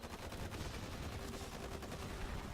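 Dense, continuous rattle of rapid gunfire from units battling in the real-time strategy game Forged Battalion, loud and unbroken throughout.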